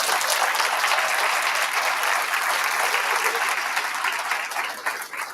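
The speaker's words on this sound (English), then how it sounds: "So please give them a big round of applause." A dense, loud round of audience applause at a high school scholarship night, filling the room evenly from start to finish and tapering off slightly at the very end.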